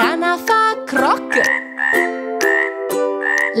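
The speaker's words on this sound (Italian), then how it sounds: "la rana fa croc" A frog croaking in a children's song about animal sounds, a loud, close series of about eight rhythmic, tonal croaks, each a short, bright repeated call.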